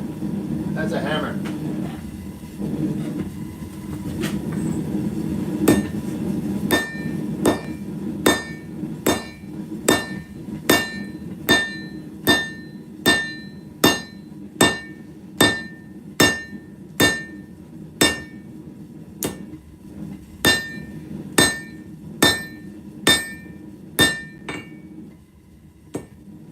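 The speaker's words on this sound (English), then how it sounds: "That's a hammer." A hammer rings out on metal while a cable Damascus blade is forged, starting as scattered blows and then settling into a steady rhythm of sharp, ringing strikes over a low hum of shop noise. There is some background talk early on.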